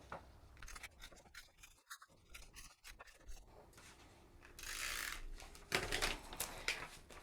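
Scissors cutting printed paper designs down to A5 size, a close, quiet run of snipping and rasping strokes with rustling paper, getting louder toward the end.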